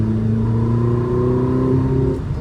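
A Ferrari 849 Testarossa accelerating hard on the Sonoma Raceway track, its engine note rising steadily in a loud, sustained in-car roar.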